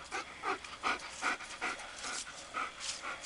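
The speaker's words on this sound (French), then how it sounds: "Ça c'est mon Aucun, c'est le chef de mes chiens là" A sled dog from a working pack pants close by in quick, rhythmic breaths, faint and steady, with no talking over it.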